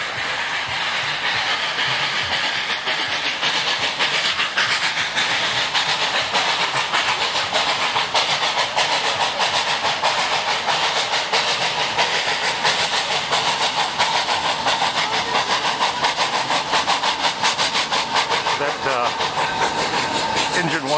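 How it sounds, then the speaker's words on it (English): A 5/8 scale model of Union Pacific Engine 119 runs steadily nearby at a zoo, with a continuous hissing rush and a fast rhythmic clatter of wheels going on for the whole stretch. "a 5/8 scale model of the engine that the Union Pacific used building the Transcontinental Railroad"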